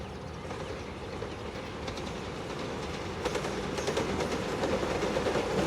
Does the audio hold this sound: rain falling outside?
no